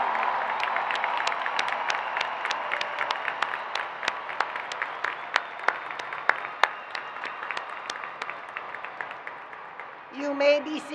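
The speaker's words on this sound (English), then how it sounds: "give them a round of applause for their unwavering love" A commencement crowd at Miami Dade College applauds families, steady clapping with sharp individual claps throughout, thinning toward the end as a voice begins speaking.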